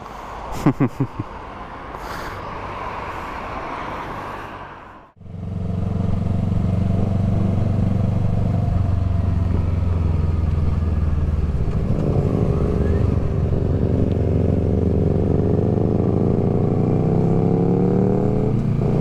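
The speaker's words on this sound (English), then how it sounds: "Bike is so loud." A loud motorcycle on a ride, its engine roaring steadily and close after a brief pause, with a rising rev partway through and a few faint voices early on.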